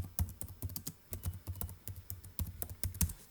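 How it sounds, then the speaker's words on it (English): Quick bursts of keystrokes on a computer keyboard, a string of close, crisp clicks in an uneven rhythm with brief pauses between words, fairly quiet and free of talk. "Let me type in flying dinosaurs."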